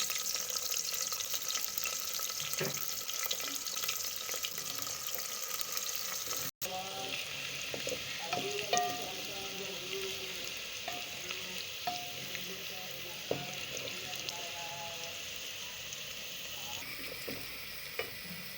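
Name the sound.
onions sizzling in hot oil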